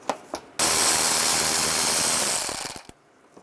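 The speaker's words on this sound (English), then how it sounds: "use a 7mm socket. Take the screw out here." A ratchet with a 7mm socket turns out a screw on a 2010-2017 Chevrolet Equinox bumper, giving a fast, steady clicking run for about two seconds that slows into a few separate clicks before stopping, close and loud with no talk.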